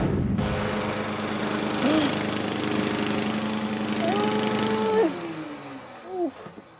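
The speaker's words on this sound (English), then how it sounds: "All mowed and done." Lawn mower engine running steadily with a droning rumble throughout, louder near the start and briefly surging, while voices speak over it.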